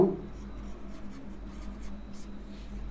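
Marker or chalk writing on a board during a Bengali grammar lesson, a steady faint scratching and stroking over room hum for the whole stretch, with no speech over it.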